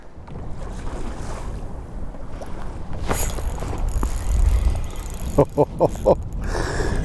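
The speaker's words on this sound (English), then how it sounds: "this wind just won't stop" Wind gusting across an open fishing boat on a northern Manitoba lake, a steady rumbling buffet against the microphone, with a few sharp knocks near the end.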